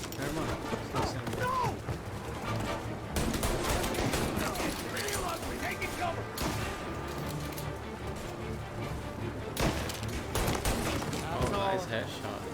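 Gunfire in the video game Mafia: Definitive Edition, scattered shots and bursts in a running firefight mixed with mechanical clatter, while people talk over the action.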